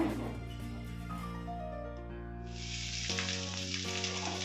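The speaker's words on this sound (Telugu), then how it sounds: "ఐదు పచ్చిమిరపకాయలు బాగా వేయించుకున్నాము" Five green chilies fry in hot oil in a pan for a dried fish and cucumber curry; a steady sizzle swells partway through and continues over a constant tonal hum, with no talk.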